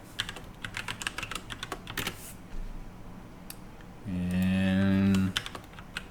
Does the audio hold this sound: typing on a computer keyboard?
yes